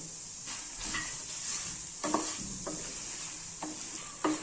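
Curry leaves and tamarind sizzle in a pan under a steady hiss of hot oil, with repeated scraping stirring strokes clattering close by.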